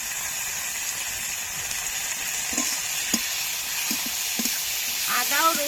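Ginger and garlic paste with chopped tomato frying in a pan for a Bengali chicken dish, a steady loud sizzle with faint stirring scrapes and soft clinks near the end.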